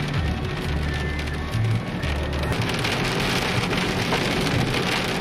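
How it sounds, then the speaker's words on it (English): Hail falling during a thunderstorm in Morgan-Cullman County, Alabama, a dense, loud, continuous patter and rattle of stones striking surfaces, with a low rumble underneath and no talking. "It's hailing."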